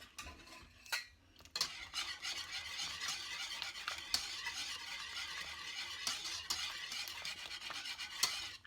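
A sliced potato dish with bacon, onion and cheese being mixed with a pinch of thyme, close metallic spoon scrapes and squeaks against the pan in uneven strokes over a faint sizzle.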